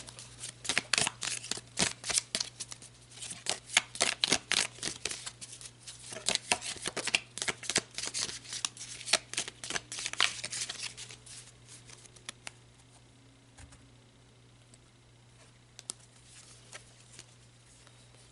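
Tarot cards are shuffled close up in rapid, crisp riffling bursts for about ten seconds, then thin out to occasional soft card slides.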